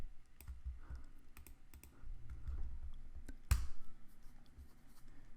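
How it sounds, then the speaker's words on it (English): A computer mouse double-clicks among sparse desk clicks and soft keyboard taps in a quiet room, with one sharper, louder click pair standing out near the end; no one speaks. "I'm just going to double click on that"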